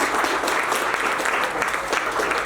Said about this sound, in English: Let's give these guys a big round of applause